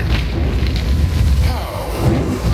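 Sacred fire attack in the game Cursed Crusade, a loud, low booming rumble with a roaring, flame-like rush that swells and wavers over a couple of seconds.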